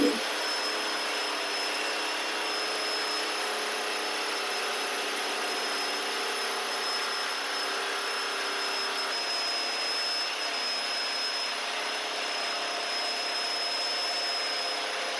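A B15 INOX machine runs steadily while machining stainless steel, producing a constant, even whine with a high tonal edge that stays unbroken and fairly loud throughout.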